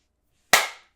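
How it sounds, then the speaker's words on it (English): One person claps their hands once, a single sharp, close clap with a short ringing decay, alone against silence. "That was me clapping."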